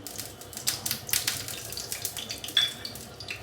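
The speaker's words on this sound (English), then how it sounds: "Pour the oil in the frying pan." Cooking oil poured from a bowl into a frying pan on a gas stove for an omelette, a close, splashy trickle of liquid lasting a few seconds, with no talking.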